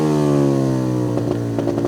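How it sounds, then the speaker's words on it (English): Speedway motorcycle engine left jammed on and revving hard after a crash at a Championship meeting, a loud sustained high whine with sputtering, uneven bursts toward the end. "the bike is still revving away there"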